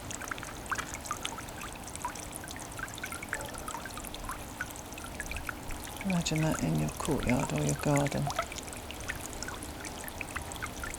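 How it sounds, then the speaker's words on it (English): A small garden fountain trickles and splashes continuously outdoors, a soft steady flow of water running beneath a person speaking. "We've set it up with this little fountain, slightly different fountain on the top."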